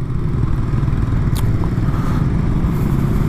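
A touring motorcycle's engine drones loud and steady close up, with rumbling wind buffeting and a brief scrape, as the rider keeps the throttle open along the road.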